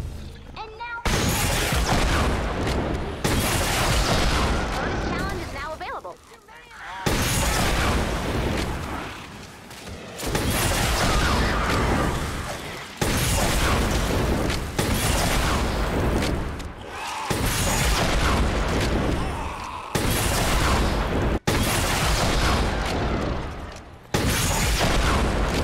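Repeated firing of the Trash Cannon budget launcher in Fortnite, loud booming blasts in long sustained bursts separated by short quiet gaps, close and heavy, with talk underneath.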